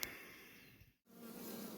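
A Carniolan honey bee buzzes faintly close by while gathering pollen from buckwheat, its drone cutting out for a split second before resuming steadily.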